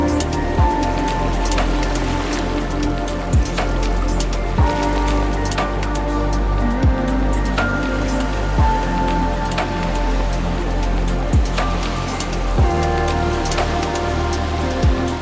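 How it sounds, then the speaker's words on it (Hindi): Steady rain falls outdoors at a riverside beach in Rishikesh, a dense continuous patter with occasional heavier drops or thumps and no talking. "वैसे तो बारिश हो रही है"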